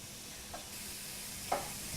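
Vegetables sautéing in olive oil for risotto after shallots, a steady soft sizzle with two brief scraping stirs of a spoon in the pan, nearby and unaccompanied by speech.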